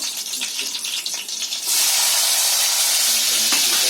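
Cumin and mustard seeds hit hot oil in a home kitchen tempering with curry leaves, chilli and garlic, bursting into a loud, steady hiss and sizzle after a short lead-in of quieter spluttering.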